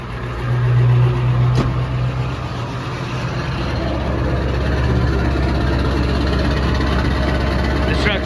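A Ford 7.3 Powerstroke diesel pickup with 695,000 miles and big injectors fires up after a short crank and settles into a steady, loud, rumbling idle up close.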